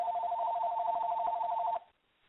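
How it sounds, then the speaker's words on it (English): A telephone rings with a steady electronic trill, repeating rapidly for almost two seconds before cutting off abruptly into near silence, heard over a narrowband phone-line recording. "Do you have a phone ringing?"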